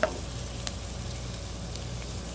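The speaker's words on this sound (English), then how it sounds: "so our onions are, well, cooking" Onions frying in an electric skillet give a steady, soft sizzle with faint crackles, quiet and continuous throughout.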